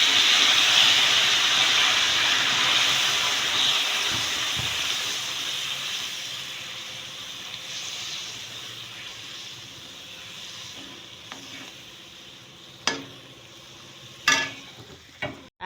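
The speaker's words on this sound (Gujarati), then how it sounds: "હવે આપણે તેમાં દહીં ને તે બનાવ્યું હતું મરચું ને તે આપણે તેમાં નાખી દઈશું અને તેને હલાવીશું સારી રીતે" Yogurt and chili hit hot roasted gram flour in a pan with a loud, steaming hiss that fades gradually. A few sharp scrapes and clinks of stirring follow near the end, with no voices.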